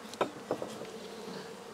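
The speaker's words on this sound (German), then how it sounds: "Die Bienen sind alle noch da." Honeybees hum in a continuous buzzing drone at a Dadant hive where the swarm has stayed, with a few brief louder passes of individual bees near the microphone.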